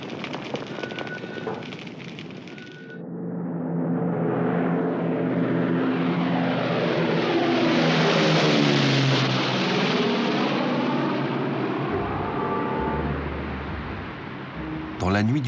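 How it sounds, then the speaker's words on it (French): A single airplane taking off from a military airfield in Great Britain in 1942 gives a loud, sustained engine roar that builds and holds, with a deep rumbling drone and a shifting pitch as it passes. "un avion décolle d'un terrain militaire en Grande-Bretagne"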